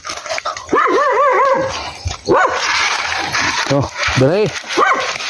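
Several close, sharp dog barks and higher yips come in short bursts in a forest, mixed with a person's voice talking nearby.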